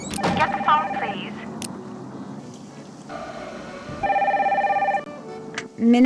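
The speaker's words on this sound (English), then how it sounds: "Get the phone, please." Telephone ringing in a Nancy Drew video game, a repeated electronic ring in a single burst, mixed with game sound effects and a voice speaking.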